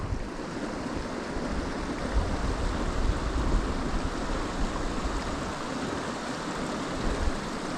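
River water pours through a breached bank into a meadow, making a dense continuous roar and hiss of flowing water with some wind buffeting, loud and steady, with no one speaking.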